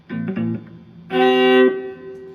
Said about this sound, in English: let's get back to the clean sound.